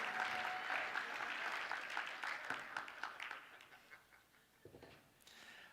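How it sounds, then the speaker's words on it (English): Audience applause at a Flat Earth conference in 2019: a dense burst of clapping across a hall that thins out and fades over several seconds, with scattered individual claps trailing off at the end. "everyone gives an applause"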